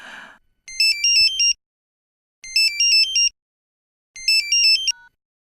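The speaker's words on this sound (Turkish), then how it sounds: "30 kişiden biri bile bu telefonu duymuyor mu?" A phone ringtone trills in three repeated bursts of bright electronic warbling, each about a second long, separated by short silences.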